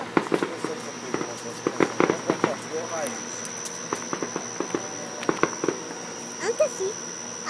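Fireworks burst outdoors in irregular distant pops and cracks, some in quick clusters, over a constant insect drone while people talk nearby.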